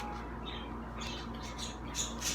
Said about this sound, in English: for my birds in the background